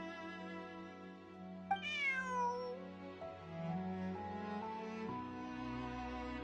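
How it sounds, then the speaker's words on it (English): A cat meows in the Genshin Impact video game, a single clear meow rising then sliding down, set over soft sustained background tones. "Bonnie is Pierre's cat"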